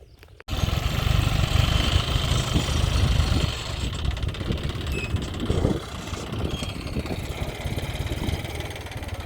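A farm tractor runs while fertilizer is loaded onto it in a village. The engine gives a loud, steady idling rumble that eases slightly partway through, with no voices standing out.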